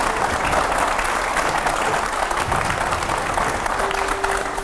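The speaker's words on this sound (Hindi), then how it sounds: "जोरदार तालियों से एक बार फिर से स्वागत करिए" Studio audience at a televised Hindi debate show applauds to welcome Sudhanshu Trivedi, with dense, steady clapping filling the room at constant loudness and no talk over it.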